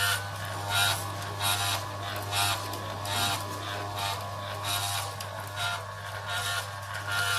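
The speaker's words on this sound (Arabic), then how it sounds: "ماكينة عصر الزيوت موديل 811 مقدمة اليكم من شركة امتوباك للصناعات الهندسية والتغليف الحديث." An Amtopack model 811 desktop stainless electric oil press presses soybeans. It gives a steady mechanical hum under a repeating rasping, grinding churn that pulses roughly once a second.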